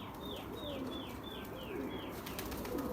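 Pigeons in a loft give soft, repeated cooing calls over a low background murmur, several birds close by with a faint flutter of activity.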